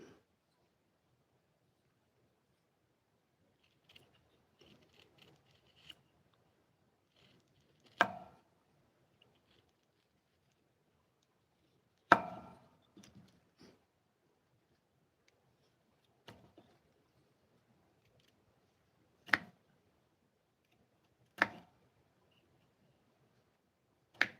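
A knife carving wood, heard as sparse, sharp individual cuts and scrapes separated by long quiet gaps, close and fairly soft.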